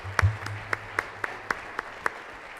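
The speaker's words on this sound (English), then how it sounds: "Let's give Tiffany another round of applause." A luncheon audience at a St. George Area Chamber event gives sparse, scattered claps, a handful of distinct slaps spaced evenly and fairly faint in a quiet room.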